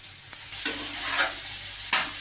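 Chicken paste frying with spices in a pan, a close hissing sizzle broken by a few sharp spatula scrapes and knocks as it is stirred.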